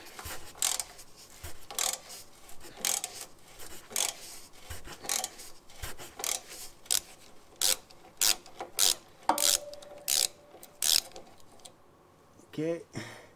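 A wrench works a rusty, dirty bolt loose on the air suspension reservoir of a Land Rover Discovery 3 or 4, making repeated close ratcheting and scraping clicks in uneven bursts, with some faint talk in between.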